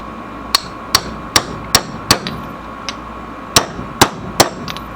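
Sharp metallic hammer strikes drive a bearing part back into the steering rack of an S14 240SX during a rebuild, about nine close, loud blows in an uneven rhythm with short pauses, no speech.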